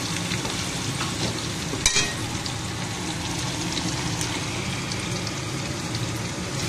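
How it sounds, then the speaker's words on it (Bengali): Chopped onion sizzles in a wok with a bay leaf and dried chili, a close, continuous frying hiss with a soft crackle and one sharp clink of a utensil early on, and no talking. "কড়াইতে একটা তেজপাতা শুকনো লঙ্কা দিয়ে দিয়েছে পেঁয়াজ কুচি।"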